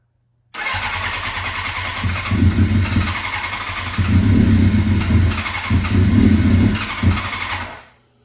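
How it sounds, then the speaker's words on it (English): Suzuki GSXR 600 motorcycle being cranked for a first start after a fuel pump install: steady engine cranking and sputtering for about seven seconds with surges, close and loud, then it cuts off. "The fuel pump is now installed, and let's give it the first attempt at starting."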